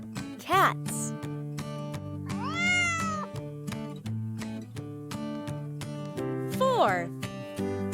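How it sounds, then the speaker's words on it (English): A cat meows a few times, rising and falling calls near the start, middle and end, set over light background music; fairly close and clear. "Cats."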